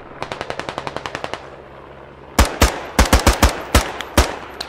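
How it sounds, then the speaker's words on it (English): Sniper rifle fire in the Squad video game, with a quick run of about a dozen evenly spaced sharp shots followed by a pause and then a slower, louder burst of heavy cracks, close and with no talking. "this sniper is so nice"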